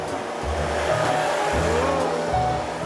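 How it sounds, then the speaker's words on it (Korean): A household vacuum cleaner runs during a demonstration, a steady whirring motor drone with slight rises and dips in pitch as it is pushed about, fairly close. "청소기를 처음 써보는 장모님을 위해 용섭 씨가 시범을 보인다"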